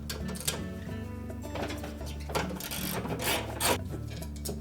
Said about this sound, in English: So using our 1/2-inch socket, we'll remove all 3 of those bolts